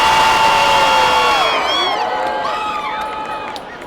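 A large outdoor crowd at the Walk For Life 2011 rally cheers and whistles loudly, with a sustained roar of voices and shrill whoops that gradually fade over a few seconds.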